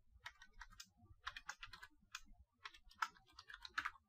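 Quiet keystrokes on a computer keyboard, clustered in short bursts of clicky taps with brief pauses between, close and alone.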